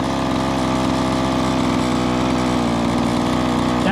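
A 1:5 scale petrol RC car engine holds a loud, steady buzzing rev close to the microphone after a throttle trim adjustment, a constant harmonic drone without breaks for the few seconds heard.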